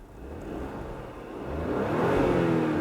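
2019 Porsche Cayenne engine starts and revs up, a low rumble building steadily into a louder, rising roar over a few seconds, close by with no talk.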